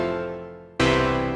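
Prophet 12 synth chords on the A Little Sauce snapshot preset: a decaying held chord, then a sudden loud, bright, punchy new chord sustaining to the end, with no voices.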